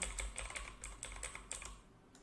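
Rapid, steady typing on a computer keyboard while setting text in a design program, crisp close keystrokes that trail off toward the end, with no voices.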